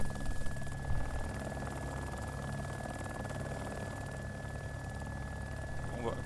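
Video game helicopter flying with a steady rotor and engine drone that stays fairly loud and even throughout, with a brief rise near the start and a few faint clicks.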